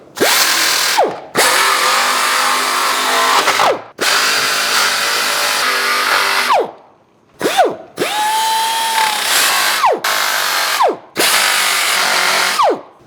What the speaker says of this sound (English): Now that I got it cleaned out, I'm gonna go ahead and grind it down a little bit.